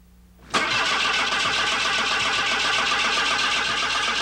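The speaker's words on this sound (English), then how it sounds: "What I'm about to do here is record the engine of this Saab, which I feel has a great sound for the Bazooka Gum commercial." A Saab car engine cranks and catches abruptly, then settles into a steady, loud, close running roar that holds without a break.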